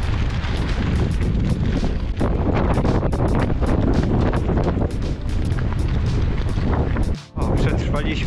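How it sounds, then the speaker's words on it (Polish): Strong wind roars and buffets the microphone during a bike ride along the R10 route across Poland, a loud, continuous rushing that dips briefly near the end. "Ale wieje."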